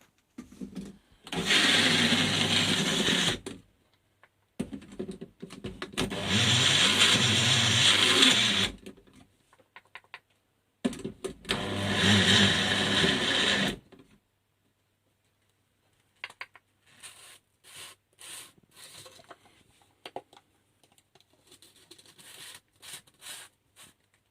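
An electric blender whirs through a homemade chocolate and hazelnut spread in three loud, close pulses of a few seconds each, separated by silence, followed by quieter clicks and handling noises.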